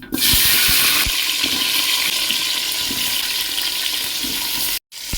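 Jackfruit pieces with cumin, dry chillies and bay leaf hit hot oil in a vegetarian kitchen pot, giving a loud continuous hissing sizzle with a few knocks, cutting out briefly near the end.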